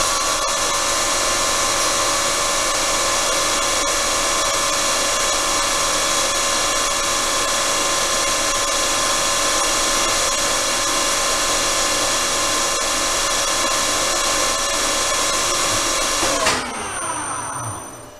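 Continuous, loud, steady whine of a machine cutting a built-up flywheel bearing journal on a crankshaft, holding an even tone for about sixteen seconds before winding down.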